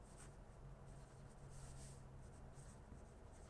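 A Sailor Pro Gear King Size demonstrator fountain pen with a 21 karat gold broad nib writes on paper, giving a faint, steady scratchy glide that runs continuously and quietly.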